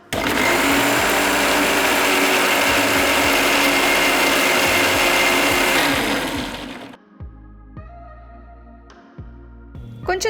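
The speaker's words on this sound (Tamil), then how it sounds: "மசாலாவை நல்லா ஆற விட்டு மிக்ஸி ஜாரில் மாற்றி நல்லா அரைக்கணும்" A mixer grinder grinds cooled masala in a mixie jar, running loud and steady for about seven seconds, then stops, leaving a few short clicks and brief motor bursts.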